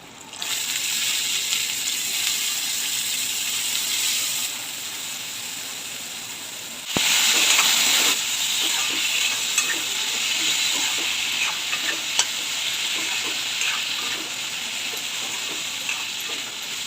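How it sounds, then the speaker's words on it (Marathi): Soaked chana dal tipped into a hot pan of tomato masala, giving a loud steady sizzling hiss that surges at about seven seconds, with light stirring scrapes and clinks over the top. "भिजवलेली चण्याची डाळ टाकून घेते"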